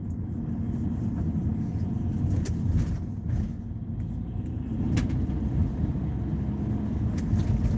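Low, steady road rumble from inside a car driving out of town, constant engine and tire drone with a few faint clicks and knocks, no talk.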